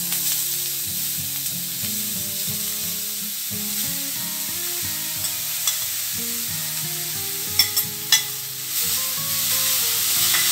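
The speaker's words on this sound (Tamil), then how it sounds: "இப்போ இத நல்லா ஒரு 5 மினிட் இதில் வதக்கிடலாங்க" Grated carrot for carrot halwa stirred in hot ghee, where cashews and raisins were fried just before, with a soft continuous sizzle and a few scrapes near the end, heard under background music.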